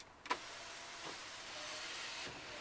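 The electric sunroof of a 2008 Toyota Kluger Grande moves, with a soft click followed by a quiet, sustained motor whir inside the cabin and a faint second click near the end.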